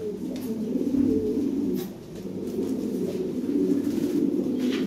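Lahori pigeons coo in low, soft, repeated throaty calls, close by and fairly quiet, with a brief dip midway and no talk.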